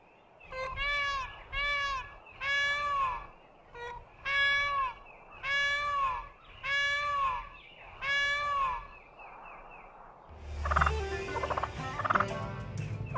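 Several loud wild turkey gobbles ring out in a rapid run of repeated calls, then a burst of scuffling, flapping commotion from a fight takes over.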